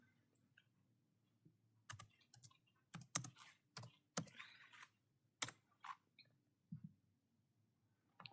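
Typing a command on a computer keyboard: irregular, close, crisp key clicks in short bursts with pauses between, over a faint low hum.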